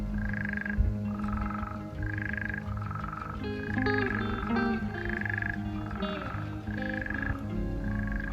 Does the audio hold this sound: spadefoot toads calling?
yes